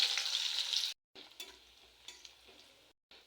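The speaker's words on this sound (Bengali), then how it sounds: "আমি এবার গরম তেলে কিছু ঝাল পেঁয়াজ ছেড়ে দিলাম" Chilies and onions hitting hot oil in a vegetable dish, a loud burst of sizzling up front, then quieter crackling broken by short gaps of silence.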